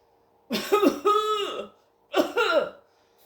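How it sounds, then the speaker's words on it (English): Two harsh, throaty coughing fits, one after the other with a short pause between, close by and with nothing else behind them. "At least 2 people coughing like that past me"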